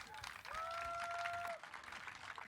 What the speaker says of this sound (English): give yourselves a round of applause for being here and listening